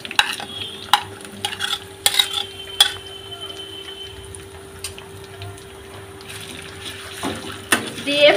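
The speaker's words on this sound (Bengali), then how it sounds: "এবার যে মশলা মাখিয়ে রেখেছিলাম সেটা আস্তে আস্তে করে আমি এই তেলের মধ্যে দিয়ে দেব" Marinated spice paste frying in hot oil, with intermittent scraping stirs and clatter over a low steady sizzle, plus a constant hum in the background.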